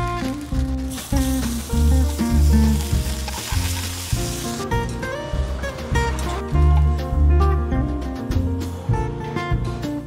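Bread dipped in egg sizzles steadily in a hot pan, a loud continuous frying crackle heard throughout alongside rhythmic background music.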